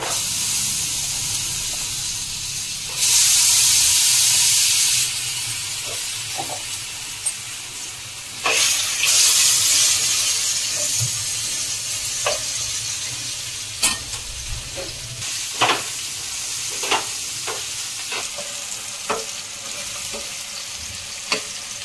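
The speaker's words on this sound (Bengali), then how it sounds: "এবার তেলে আমি আলুগুলো ছেড়ে দিচ্ছি।" Potatoes fry in hot oil: two loud bursts of hissing sizzle as they hit the pan, then a quieter continuous frying crackle dotted with sharp stirring clicks and taps, no voices.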